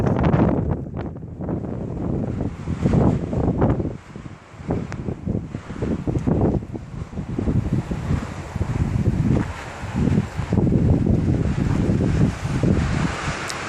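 Wind blows hard through a tree on a desert ridge looking out toward Mojave, a roaring, gusting rush that swells and eases and buffets the microphone throughout.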